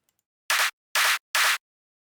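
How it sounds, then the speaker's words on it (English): Three crisp, noisy claps synthesized from white noise, evenly spaced and bright with a short snap, each standing alone against silence. "today I want to show you how I made this clap"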